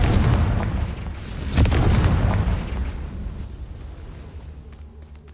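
A fiery spell blast bursts with a heavy boom in a fantasy wizard action game, then its deep rumble fades away over several seconds.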